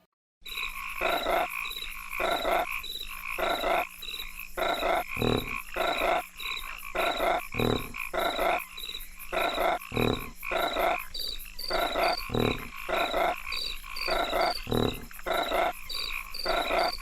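Frogs croak in a dense, continuous chorus of loud pulsing calls, layered over a steady insect-like trill.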